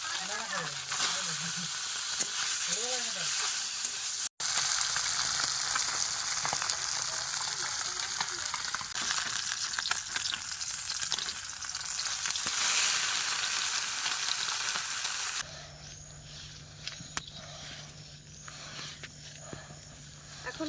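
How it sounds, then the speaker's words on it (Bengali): Fish fries in white oil in a wok, giving a loud continuous sizzle and crackle that drops later to a softer hiss over a low hum. "কড়াইতে দিয়ে দিয়েছি সাদা তেল দেখাই যাচ্ছে না কড়ার মধ্যে আছে কিনা তো এবারে মাছ"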